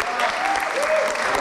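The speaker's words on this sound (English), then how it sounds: "Let's hear a round of applause again for Yaacov." A live audience applauds for the artist Yaacov Agam at a Park West Gallery event: steady, dense clapping that stays loud and even for the whole short stretch, with no voices on top.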